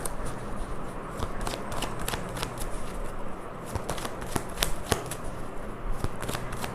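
A deck of tarot cards is shuffled steadily for several seconds, close and clear, with a continuous papery swish broken by rapid flicks and taps.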